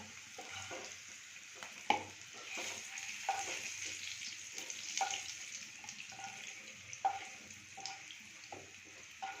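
Pieces of moong dal omelette fry quietly in a pan, a soft continuous sizzle broken by occasional light taps of a utensil.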